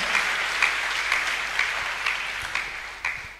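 A church congregation applauds at a healing service, a steady wash of many hands clapping throughout with a few louder swells, moderately close and continuous.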